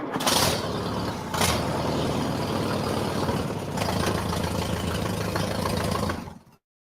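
A 1952 Allis-Chalmers WD farm tractor engine idles with a steady, low, knocking chug, punctuated by a couple of sharp clanks near the start, then cuts off abruptly at the end.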